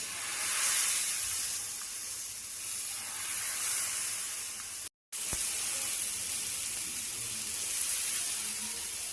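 Besan chilla batter spread thin on a hot, oiled tawa sizzles with a steady bright hiss that stays fairly even throughout, broken only by a brief dropout midway, with no voices.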